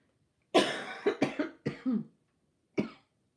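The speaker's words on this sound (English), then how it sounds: "sorry for the coughs" A single person coughs in a harsh close-up cluster of five quick hacks, falls silent briefly, then gives one more cough in an otherwise quiet room.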